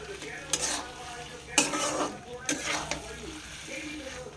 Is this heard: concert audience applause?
no